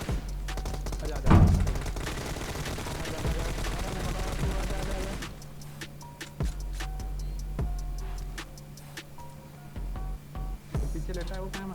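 Gunfire in a battle-royale style video game featuring an MK14, scattered shots and bursts mixed with clicks and thumps, fairly faint and continuous, with no talking.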